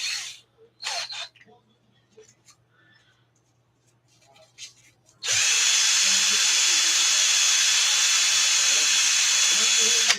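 High, steady power-tool whine polishing burrs off a metal shaft during an Arrma 6S RC truck rebuild, starting abruptly halfway through and running continuously and loud after a few quiet handling noises.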